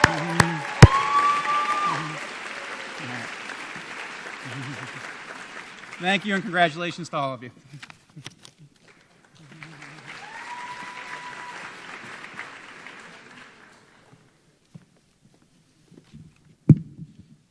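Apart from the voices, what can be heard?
audience applause at a school honors convocation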